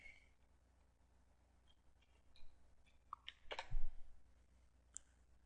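A few computer mouse clicks land near the middle of an otherwise quiet stretch on a desktop computer, sharp, close and sparse, with one more click toward the end.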